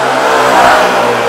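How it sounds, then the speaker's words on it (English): Loud motorcycle or moped engine revving on a Monte Carlo street, a close, continuous throaty roar that swells briefly in the middle. "There are a ton of motorcycles and mopeds. They're anyways. All loud."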